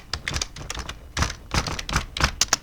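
Quick keystrokes on a computer keyboard clatter in short uneven bursts, close and fairly crisp, with no voice over them.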